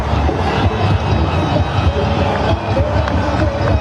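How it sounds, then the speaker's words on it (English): Cricket crowd at a Pakistan versus Sri Lanka T20 World Cup match roaring after a boundary: a loud, sustained swell of massed voices with a rumbling, busy texture throughout. "The roar in the crowd tell you all about that one"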